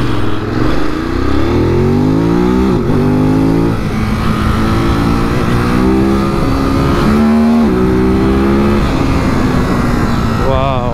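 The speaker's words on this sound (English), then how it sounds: "This bike has got some speed." Ducati Monster 821 or Triumph 765 S motorcycle accelerating hard through the gears on a city road, engine note climbing and dropping with each shift, loud and close over steady wind noise.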